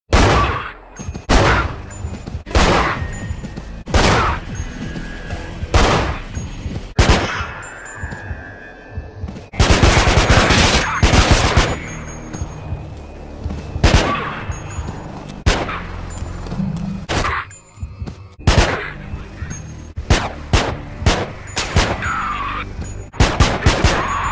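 Gunfire from the Manhunt video game, with repeated sharp shots in irregular bursts, some rapid runs, scattered metallic clinks and dings, loud and close throughout and free of speech.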